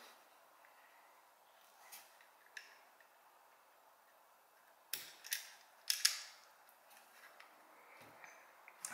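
Locking block pin being pushed into a Glock 20SF pistol frame: a quiet stretch with scattered faint ticks, then a cluster of sharper metallic clicks and snaps near the middle, close up and without speech.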